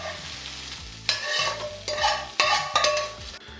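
Fried onions and garlic tipped from one pan into another for tarka dal, giving a loud, close, continuous sizzle with bursts of stirring and scraping, and no voices.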